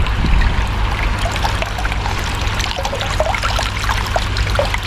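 Water pours from an opened valve into a DIY vegetable filter for a fish pond, a steady close rushing trickle with a low rumble underneath, continuous throughout.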